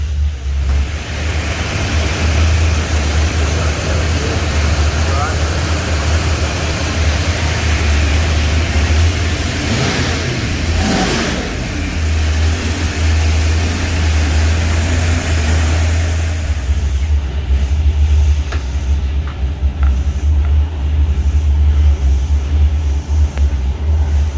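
A 408 stroker engine on a dynamometer roars steadily and continuously, with a rising rev sweep near the middle before settling back to a constant heavy drone.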